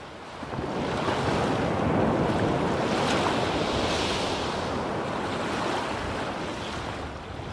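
Waves break steadily and loudly along the rocky East Sea coast, a continuous roar of surf with wind buffeting the microphone and no voices.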